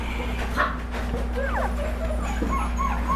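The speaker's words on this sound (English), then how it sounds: "so many puppies" Shepadoodle puppies make soft whimpers and little yips against a steady low hum, with a few brief high cries rising and falling.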